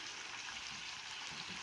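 Chicken frying with spices in a pot for Iraqi chicken tashreeb, a steady close sizzle with no voices.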